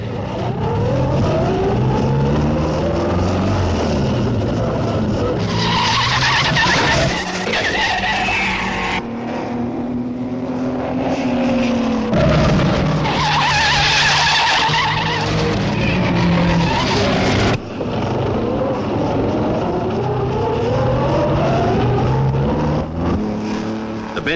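Vintage Bentley race cars on a circuit with freshly tarred corners, rising and falling engine whine and tire skids, loud and continuous, with pitch sweeping up and down as the cars pass.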